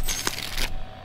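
Money dropped in Call of Duty: Modern Warfare makes a quick bright jingle of clinking coins, a short loud burst that stops abruptly.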